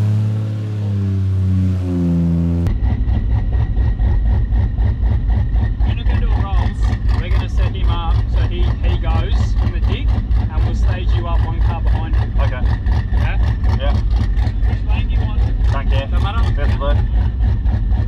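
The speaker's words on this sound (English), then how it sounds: "So we're going to start Cal here in the Fox body" Loud, steady engine idle with rhythmic low pulses from pro street no-prep drag cars, a 1JZ-powered Ford Foxbody and an LS twin-turbo Holden HR, at the start line. Voices talk over the idle throughout.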